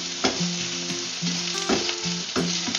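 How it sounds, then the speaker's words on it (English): Okra sizzles steadily in a hot pan while being stirred, a dense frying hiss punctuated by rhythmic scraping strokes of the utensil, close and alone without talk. "Stir your okra for 3 minutes."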